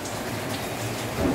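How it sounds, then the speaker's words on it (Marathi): A steady rain falls outdoors on a December day, a soft continuous patter of drops on surfaces with no voices over it. "हा बघा पाऊस पूर्ण पडतो आहे"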